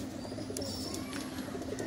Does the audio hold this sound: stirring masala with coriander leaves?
no